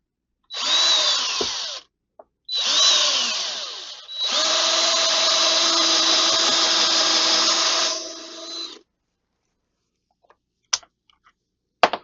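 A power drill drives screws in three whirring bursts close by, the last one long and steady, with short pauses between them. A few faint clicks follow once the drilling stops.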